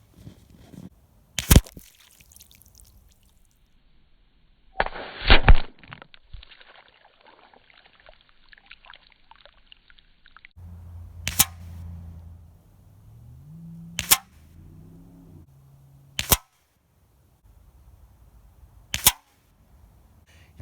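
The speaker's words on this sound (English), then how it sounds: "I'm going to try shooting at a beer can." Benjamin 392 air rifle firing several sharp, loud cracks at a water-filled beer can 45 yards away, spaced seconds apart with quiet rustling and a low rumble between shots.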